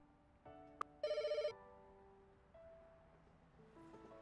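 A telephone rings in the Pets Hotel video game, a single electronic ring burst of rapid trilling tones with a short beep before it, then soft game background music continues quietly.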